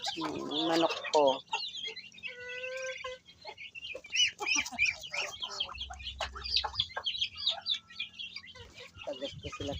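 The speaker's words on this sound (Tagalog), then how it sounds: "Manok ko." Backyard chickens clucking and calling while ducks are fed at a home coop, bird sounds mixed through the clip with people talking over them in Filipino.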